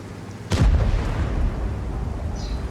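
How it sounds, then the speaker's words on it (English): Artillery shell explosion in a World of Tanks-style tank battle game, with a sudden heavy low boom followed by a sustained rumbling tail and battlefield noise. "Now he's getting hit by artillery."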